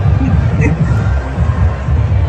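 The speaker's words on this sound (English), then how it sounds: "today Trump was back in Butler, and this was the crowd" Dense crowd noise at a Trump rally in Butler: a loud, continuous roar of many voices and distant cheering with no single clear speaker.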